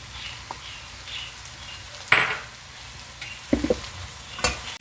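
Vegetable rice for a Chinese-style dish stirred in a hot pan: a low, steady sizzle with a few sharp scraping strokes of the spoon, close and moderately quiet.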